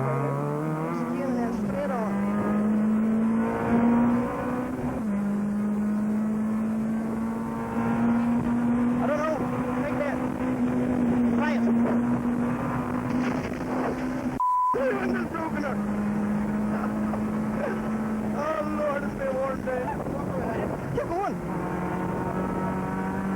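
A Formula Rally R1 rally car at the 2001 Rally of Wirral runs flat out through a chicane, its engine holding a steady high drone with small pitch dips and one brief cut, close and loud throughout.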